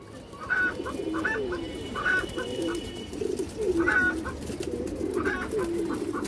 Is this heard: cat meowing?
no